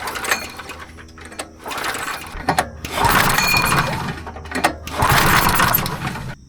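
A small go-kart engine that has sat unused for years is cranked over with its spark plug resting on the cylinder head, giving three loud, rattling mechanical bursts separated by brief pauses.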